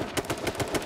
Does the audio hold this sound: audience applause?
no